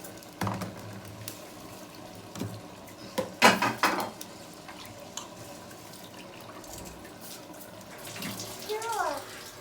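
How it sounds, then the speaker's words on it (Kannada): Water is poured into rice in a pot while making Coorg-style chicken biryani, a short splashing gush near the middle with light clatter of the vessel before and after, all close and fairly soft. "ಈಗ ನಾನು ನೀರು ಹಾಕ್ತಾ ಇದ್ದೀನಿ."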